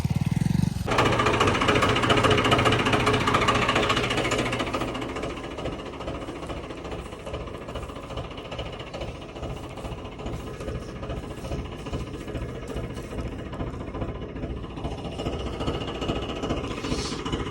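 A tractor engine pulls a loaded sugarcane trolley free with a steady, rapid diesel chugging. It starts loud and close with a brief louder burst, then settles slightly lower for the rest.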